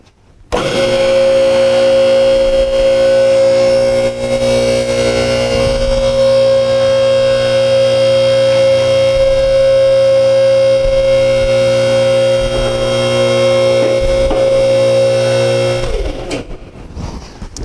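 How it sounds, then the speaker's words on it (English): Electric motor of a Triumph NT-9 9,000-pound floorplate two-post car lift raising its carriages, a loud steady hydraulic whine and hum running unbroken for about fifteen seconds before cutting off. "now we'll do a little demonstration of how your motor lifts your carriages."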